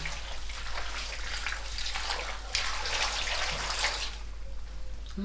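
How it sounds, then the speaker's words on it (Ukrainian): Water pours steadily into a bowl of salted cucumbers, a close, continuous rushing splash that shifts slightly in tone as it fills. "і заливаю водою"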